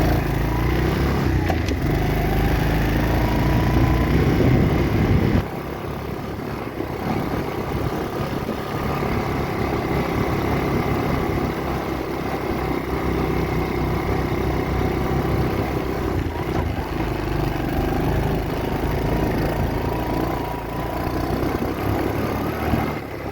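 A small Chinese ATV engine runs steadily while being driven, a loud, continuous buzzing drone with slight shifts in pitch and a brief dip in level, close and alone without talk.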